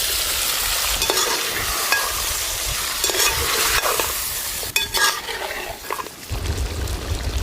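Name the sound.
masala frying and being stirred for mutton ghee roast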